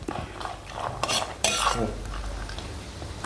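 Almonds fry in a pan for carrot sago payasam, with a spoon stirring and scraping against the metal in repeated strokes over a soft sizzle, close and busy.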